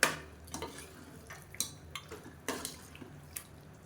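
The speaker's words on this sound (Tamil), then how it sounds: "இப்போ சிக்கன் பீஸ் எல்லாத்தையுமே சேர்த்தாச்சு இதை நல்லா பரட்டி விட்டுக்கலாம்" Chicken leg pieces coated in masala are stirred in a pan, giving scattered scraping and clinking strokes with soft wet sizzling between them, close and fairly quiet.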